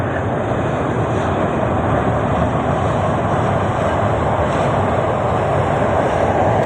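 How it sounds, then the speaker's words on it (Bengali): A train crosses the Padma Bridge, heard as a loud, steady rumbling roar that fills the whole clip without a break, and no one talks. "ট্রেন যাচ্ছে পদ্মা সেতু দিয়ে"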